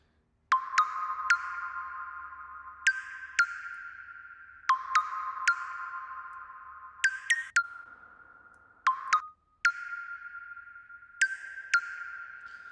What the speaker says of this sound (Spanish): si oyeron ahí que la reverb se corta